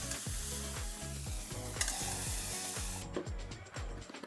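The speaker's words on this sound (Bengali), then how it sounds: "তো আমি এটা দিয়েও একটু ভালো করে ভেজে নিচ্ছি।" Cauliflower frying in hot spiced oil for a Bengali rohu fish curry, a loud steady sizzle with repeated scraping stirs of a spatula against the pan, and no talk.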